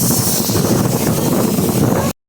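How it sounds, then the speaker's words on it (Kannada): Strong desert wind in Dubai buffets loudly and close in rough, continuous gusts, then cuts off abruptly. "ಗಾಳಿ ಸಖತ್ ಬೀಸ್ತಾ ಇದೆ"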